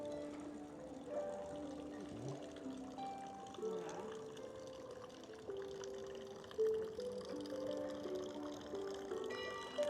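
Steady splashing and pouring water from an 1872 fountain in a village straddling the Swiss-German border runs throughout, with faint voices and background chatter mixed in at a moderate distance.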